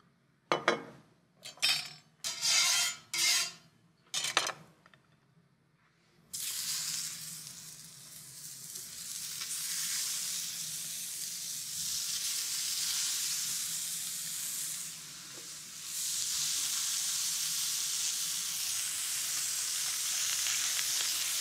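Meat sizzles and fries steadily in a hot pan on a stove, a continuous crackling hiss that follows several sharp clinks and knocks of cookware at the start.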